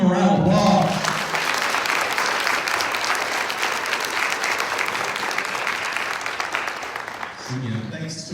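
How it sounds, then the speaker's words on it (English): An audience at a county schools spelling bee applauds the winner and runner-up, a broad, steady wash of clapping that follows a moment of speech and gives way to a voice again near the end. "Let's give them a round of applause."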